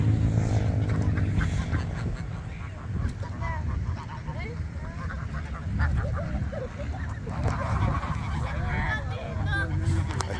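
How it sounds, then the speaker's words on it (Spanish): Several geese honk repeatedly nearby as people feed them bread, amid a busy outdoor background at Punta Mogotes, with people talking faintly underneath. "Está Leandro dándole de comer a los gansos"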